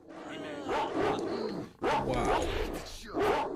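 Dogs bark repeatedly in the S.T.A.L.K.E.R. video game, a few clear yelping barks standing out in a busy game soundscape with ambient noise.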